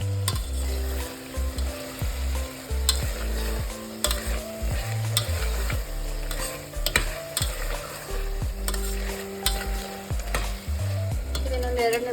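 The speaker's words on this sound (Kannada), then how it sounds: "ಫ್ರೈ ಆಗಲಿ." Chicken masala for Donne biryani fries in a pan while a spatula stirs and scrapes it, the sizzle steady under rhythmic clanking strokes throughout, close and fairly loud.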